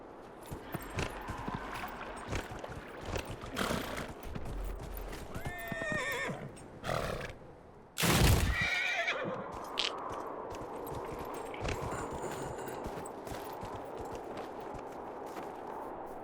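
A horse whinnies loudly amid game sound effects from Dragon Age: Inquisition, with clip-clopping hooves and scattered impacts; a sharp burst stands out midway.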